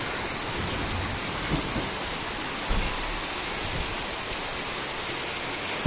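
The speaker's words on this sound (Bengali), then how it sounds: "বৃষ্টি হচ্ছে অনেক।" Steady heavy rainfall pours in a constant close hiss, with a few soft knocks and a sharper tap at the very end, no one speaking.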